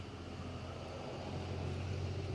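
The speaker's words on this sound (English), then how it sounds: "And a lot of background noise. You get a lot of cars today." Car traffic passing in the background outdoors, a steady low rumble of engines and tyres that swells slightly toward the end as vehicles go by.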